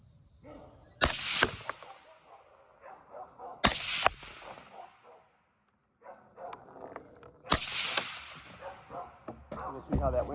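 An accurized AR rifle fired at a range, giving three loud, sharp gunshots spaced a few seconds apart, each with a ringing tail, plus quieter handling and movement noises in between.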